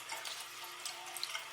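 Tap water runs steadily over a scratched game CD being wet-sanded with abrasive paper, a soft continuous splashing trickle with faint drips, close and quiet, no talking.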